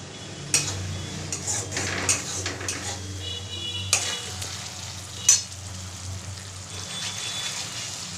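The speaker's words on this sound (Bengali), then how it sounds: "গন্ধটা না যাওয়া পর্যন্ত একটু ভাজতে হবে" Onions and spices fry in a pan with a steady low sizzle, broken by a few sharp clinks and scrapes of a utensil stirring against the metal, close and without talk.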